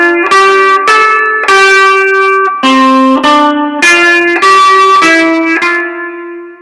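Distorted electric guitar chugs out a fast, driving rhythm part from a song, with loud, bright repeated chord stabs in short bursts and brief gaps between phrases, no voices.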